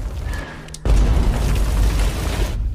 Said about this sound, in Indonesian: Pada malam harinya, markas Australia dan Selandia tiba-tiba mendapat serangan artileri Vietnam Utara.